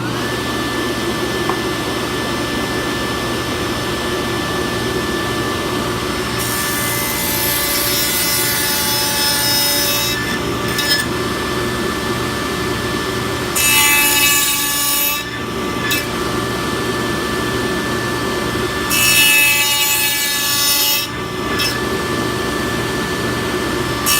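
A power saw cuts a dado in a pine board for shelving, with three loud bursts of cutting that rise over a constant motor and dust-collector hum, each bite lasting a few seconds.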